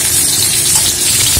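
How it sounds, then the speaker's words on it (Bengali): Rohu belly pieces fry in hot oil with a loud, dense, steady hiss close by, the rushing sizzle holding at an even level across the brief stretch. "তো এখন হচ্ছে মাছ ভাজা"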